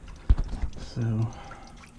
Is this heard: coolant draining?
yes